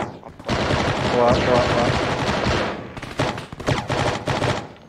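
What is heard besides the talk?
gunfire in the video game Arma 3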